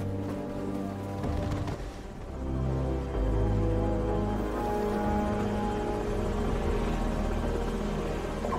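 Enemy helicopters in Call of Duty 4: Modern Warfare give a low, heavy rotor drone humming steadily under a rumbling, dramatic game soundscape, loud and continuous without any voices.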